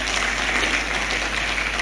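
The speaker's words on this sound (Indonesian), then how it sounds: "Beri tepuk tangan dong." Audience applause at a church sermon, a dense, steady wash of clapping lasting just under two seconds, with no talk over it.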